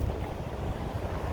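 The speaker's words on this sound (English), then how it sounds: "It's windy" Strong wind gusts roar against the microphone on a windy Appalachian Trail hike in New York, a dense, loud rumble that fills the whole moment without voices.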